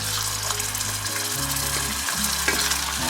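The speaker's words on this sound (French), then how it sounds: "je vais ajouter mon beurre" Butter sizzling as it hits a hot pan during a pineapple tarte tatin, with lemon juice already in: continuous crackling fry noise with faint stirring and low background hum, no voices.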